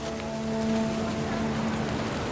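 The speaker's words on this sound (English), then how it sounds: "The rain came down in buckets then" Steady, heavy rain pours continuously in the video game What Remains of Edith Finch, with a faint sustained tone beneath, with no voices and no break in the downpour.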